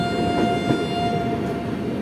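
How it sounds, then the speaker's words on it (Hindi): Tejas Express train of Indian Railways moving at a station on the New Delhi to Lucknow route, a continuous loud rumble of rolling wagons with a steady tonal hum, close and without speech. "ट्रेन को देखो"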